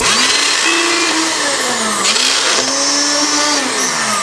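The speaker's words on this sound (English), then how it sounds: "Ice crushing is something a blender should always do." Magic Bullet Express Deluxe blender grinding ice, a loud continuous motor whine with wavering pitch and gritty crushing noise throughout, briefly dipping then revving again.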